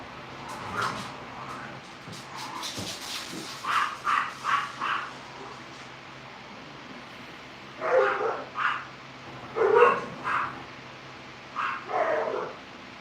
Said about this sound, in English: Well, here come the dogs.